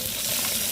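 Garlic frying in a pan, the first step of sinigang na tilapia, a steady bright hiss of sizzling oil heard up close and continuous throughout.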